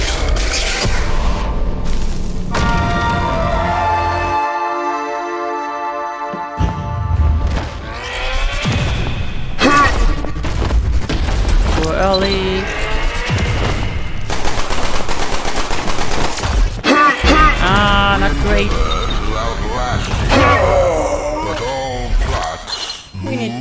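Gunfire from the weapons of Black Future '88, a video game, including a cursed null mass blink cannon, comes in dense rapid bursts and booming blasts, loud and nearly constant, mixed with game music and effects.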